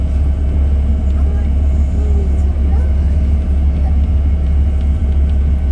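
A low, steady engine drone of a joy-flight plane overhead at Rottnest Island, Western Australia, hums through the whole stretch, broad and rumbling with no clear rise or fade.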